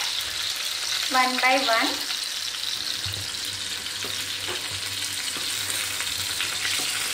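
Pointed gourd shallow-fries in oil in a pan, a steady close hiss and sizzle running throughout, with a brief voice speaking over it and a few light stirring clicks.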